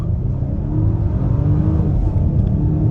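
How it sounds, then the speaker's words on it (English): A supercharged 2022 Volvo XC90 accelerates hard from a standstill, its engine giving a loud, steady droning roar that builds as it pulls away. "We'll try an acceleration right here off the line and on the gas."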